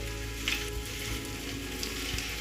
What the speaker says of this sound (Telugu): సన్నగా తరిగి పెట్టుకున్న బంగాళదుంపలు వేసుకుందాం ఇప్పుడు అన్నీ కలిసిపోయేలాగా తిప్పుకుందాం